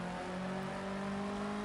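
A race car engine in the Project Cars 2 racing game on PS5 drones at a steady, fairly faint pitch as the car rolls down from the pit lane, with no voices over it.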